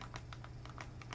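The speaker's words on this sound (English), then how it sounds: "we're going to type in a shortcut" Rapid taps on a computer keyboard as a shortcut code is typed in on a device, a steady run of close, light keystrokes with no talking.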